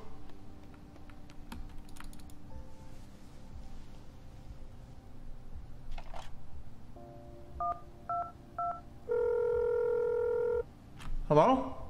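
Telephone sounds from a phone booth in the video game Accident: several short dial-tone beeps and keypad presses, then a steady held tone, followed by a brief rising chirp, over quiet game ambience.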